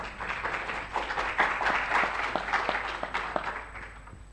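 Audience applause at a university event in a cultural center, a moderate crowd clapping with some individual claps standing out, swelling in the middle and tapering off toward the end.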